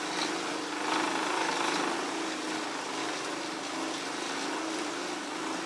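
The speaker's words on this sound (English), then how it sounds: "That's why these rollers sound so terrible" A bicycle spinning on indoor training rollers makes a steady, loud whirring drone that holds level throughout, with no speech.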